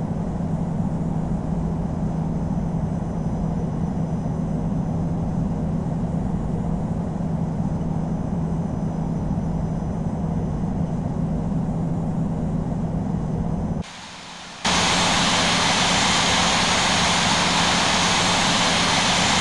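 A Boeing 747-8 in the flight simulator Infinite Flight roars through a hard takeoff from a short runway at Palm Springs, a loud continuous jet engine rumble that briefly cuts out, then returns brighter and louder.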